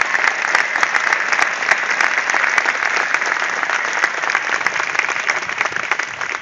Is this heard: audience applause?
yes